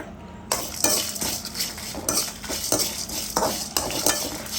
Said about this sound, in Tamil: ரொம்ப கருகிற மாதிரி வறுக்காமல் மிதமான சூட்டில் லைட்டாக வறுத்துக்குங்க.